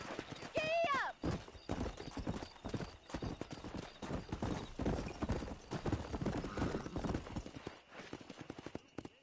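Horse galloping in the video game Red Dead Redemption, a steady clip-clop of hooves with a brief whinny near the start, running under continuous talk and game sound.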